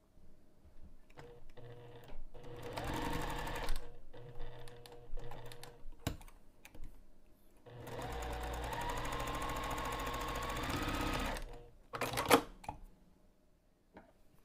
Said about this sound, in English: We'll sew this long edge and then just one of the short ends